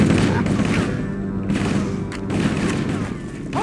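Dense gunfire and booming blasts from a Halo: Combat Evolved battle aboard the Pillar of Autumn, continuous bursts running throughout with voices shouting underneath.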